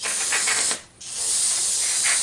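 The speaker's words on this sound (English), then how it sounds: "so you spray this carb cleaner on the gasket, it messes it up" Aerosol carburetor cleaner sprayed onto a gasket while cleaning the float bowl of a Troy-Bilt mower carburetor: a loud, close, steady hiss that breaks off briefly, then resumes and holds to the end.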